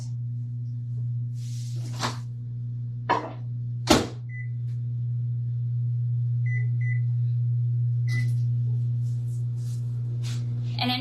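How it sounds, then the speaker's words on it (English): A microwave oven runs steadily heating 1.5 cups of water for yeast dough, its low mains hum constant throughout, with a few clicks, clatters and short beeps from the kitchen over it; no talking. "I'm gonna go put it in my microwave because it does need to be lukewarm for the yeast."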